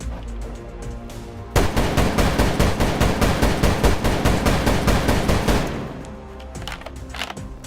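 Lego model of an AA-12 fully automatic shotgun firing, a long rapid string of clacking shots in steady rhythm lasting about four seconds, close and loud.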